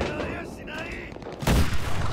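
Gunfire in the World War II shooter Enlisted: a stretch of rumbling battlefield noise, then a sudden loud, heavy blast that stays booming to the end.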